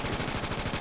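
A short, fast burst of rapid gunfire from the game GTA 5 rattles continuously and fairly loudly through a brief moment.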